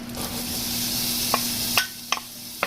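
Onion sautéing in coconut oil in a pan, a steady soft sizzle with a few sharp clicks of a utensil against the pan toward the end.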